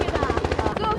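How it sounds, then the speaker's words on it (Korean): A helicopter beats loud and close at Jamsil on the Han River in Seoul, its rapid rotor chop pulsing steadily throughout, with a voice partly audible underneath. "바로 한강에 출연한 헬기."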